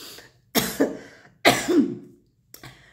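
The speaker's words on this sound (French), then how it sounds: "je tousse un peu" Two or three close, dry coughs with a short throat-clearing quality, separated by silent pauses.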